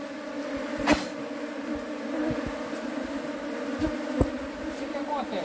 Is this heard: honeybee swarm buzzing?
yes